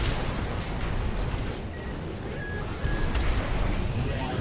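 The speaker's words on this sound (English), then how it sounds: "she's got this big cannon on her back" Heavy cannon fire from a boss mech in Armored Core VI: Fires of Rubicon, with booming blasts and rumbling impacts layered over constant loud combat noise and game music.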